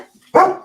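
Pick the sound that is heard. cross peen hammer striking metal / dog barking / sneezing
dog barking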